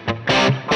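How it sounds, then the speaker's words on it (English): Guitar played through a Line 6 Helix with a reverb pre-delay of about 50 milliseconds: short distorted notes with a bright sustained body, heard alone in quick bursts. "So there's 50 milliseconds before the onset of that reverb now."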